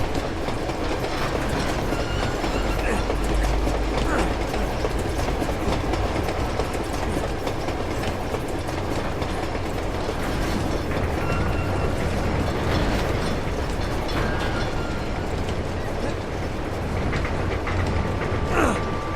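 A moving train in Uncharted 2: Among Thieves rumbles loud and continuous, with rattling cars, clattering metal mechanisms and rhythmic clickety-clack running steadily throughout.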